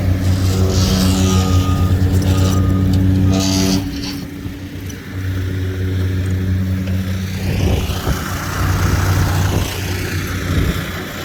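A motorized machine runs steadily at a concrete prep site in the rain, its engine droning with a deep hum that drops off briefly, then resumes, mixed with rough scraping and clattering work noise.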